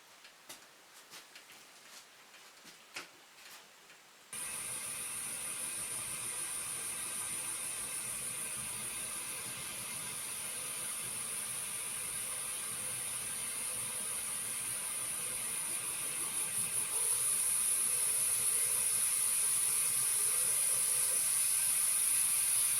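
Steady, loud hiss of steam escaping from a pressure cooker while stewing, starting abruptly after a few faint ticks and holding as a continuous high rush that grows slightly stronger toward the end.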